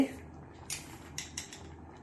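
A spoon stirs sugar into samo rice payasam, making a few light clinks and scrapes against the pot over quiet background noise.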